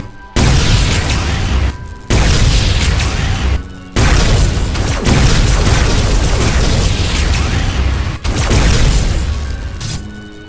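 Charged gun firing in Minecraft, loud booming blasts in long sustained bursts separated by brief gaps, about four in a row.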